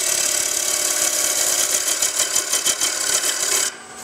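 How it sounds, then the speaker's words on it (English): A freshly sharpened bowl gouge cuts into a wooden bowl spinning on a lathe, giving a steady rasping, whirring scrape under the motor hum that cuts off abruptly near the end. "I've sharpened that bowl gouge, and you'll see that it starts much better now. Cuts much better, cuts quieter."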